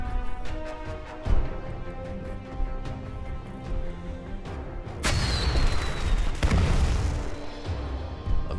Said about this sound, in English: Another firework explodes in the skies not far from here